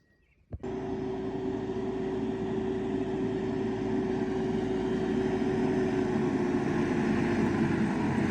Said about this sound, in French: On entend le tracteur.